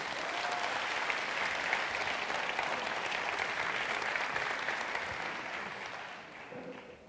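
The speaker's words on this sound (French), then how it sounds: "Est-ce qu'on peut applaudir Angélique," Audience at a live comedy show applauding a volunteer from the crowd, a steady dense wash of many hands clapping that holds evenly for several seconds before tapering off near the end.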